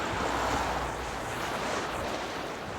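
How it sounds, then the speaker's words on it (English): Surf and tidal water washing in along a riverside waterfront on a sunny day, a steady broad rushing wash with wind buffeting the microphone throughout, continuous and fairly loud with no voices. "the tide still looks to be raging in"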